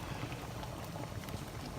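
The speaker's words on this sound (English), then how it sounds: "the potatoes are boiling" Potatoes boil in a pot on a stovetop, a steady, close bubbling roll that carries on evenly without a break and with no voices over it.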